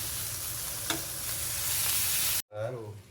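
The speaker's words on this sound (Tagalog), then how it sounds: "Yung sariling mantika na lang ng longganisa yung ginamit natin." Longganisa sausage sizzles in its own rendered fat in a pan, a steady close frying hiss with a utensil scrape, then a brief cut and a voice speaking over a quieter sizzle.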